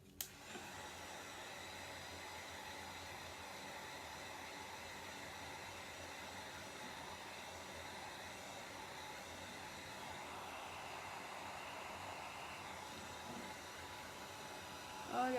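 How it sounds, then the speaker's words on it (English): A heat gun blows continuously to speed the drying of a coat of paint, a steady close whooshing fan-and-air roar that runs almost unbroken from a click at the start to the end. "I'm going to turn on my heat gun"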